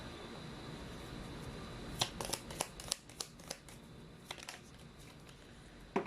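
A tarot card deck is shuffled close up in a quiet room, a series of crisp riffling snaps and flicks after a brief hush, then a final snap near the end.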